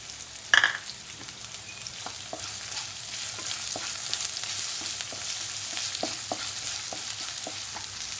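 Onion, crushed ginger and garlic sizzle in a hot pan for a bottle gourd curry, a steady frying hiss broken by repeated scraping stirs of a spoon, with one sharp clink near the start.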